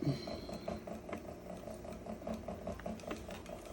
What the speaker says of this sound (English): You can hear I have the bobbin winding at the same time